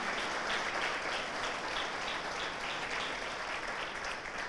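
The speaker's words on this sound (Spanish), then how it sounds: "Denle un aplauso a Cristo." A church congregation at an evangelical service applauds in praise, with a dense, steady clapping that holds for a few seconds at moderate loudness and no speech over it.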